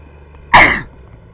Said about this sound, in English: I feel a sneeze coming on.